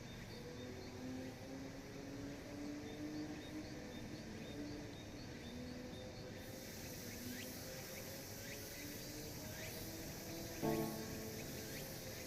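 Crickets chirp steadily at night beside a pond, a faint, continuous pulsing chorus with no voices, plus a brief soft knock near the end.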